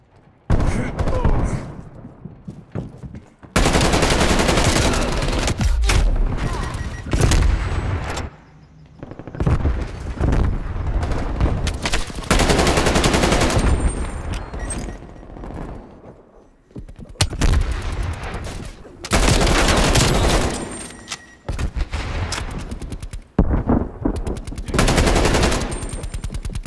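Heavy gunfire and rapid machine gun bursts in Call of Duty Black Ops Cold War multiplayer, loud and dense in long repeated volleys with brief gaps between firefights, and occasional voices shouting over the shooting.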